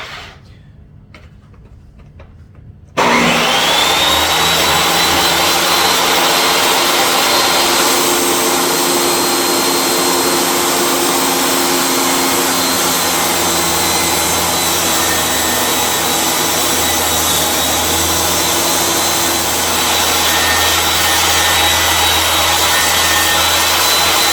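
A table saw rips rustic farmhouse lumber: after a quiet start the motor spins up into a loud, steady whine with the blade grinding through the wood for a long, continuous cut, close and alone.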